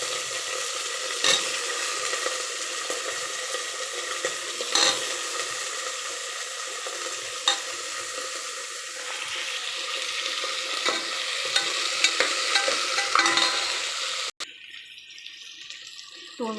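Onion and drumsticks fry in a pan for a tomato curry, a steady hissing sizzle with occasional utensil scrapes, ending abruptly as the sound cuts to a quieter background.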